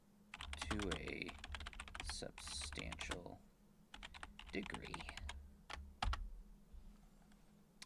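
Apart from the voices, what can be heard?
typing on a loud computer keyboard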